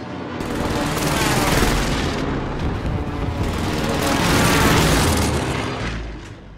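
Precision airstrike explosions in a shooter video game, a dense, loud run of overlapping booms and blasts that roars continuously for several seconds and then fades slightly.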